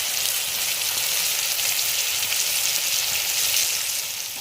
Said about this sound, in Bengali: আর এই যে দেখো আমার পটলগুলো ভেজে তুলে নিয়েছি।